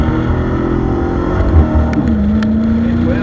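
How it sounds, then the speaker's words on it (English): Dodge Challenger Hellcat with black key, manual mode, held in first gear, a loud, steady engine drone whose pitch dips and settles as the car launches. "Let's see if the car will actually do a burnout."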